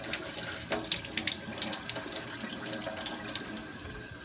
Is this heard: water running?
yes